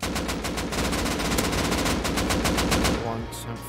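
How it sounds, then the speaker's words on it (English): Rapid automatic gunfire in the survival video game Rust, a dense, loud, continuous burst of shots lasting several seconds before cutting off near the end. "Shooting a tree or something."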